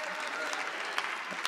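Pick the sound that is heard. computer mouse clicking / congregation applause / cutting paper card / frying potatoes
congregation applause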